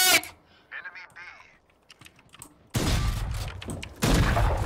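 Valorant match gunfire: after a few seconds of quiet voices and faint game sounds, a loud, dense burst of shots erupts and keeps going, then swells again near the end.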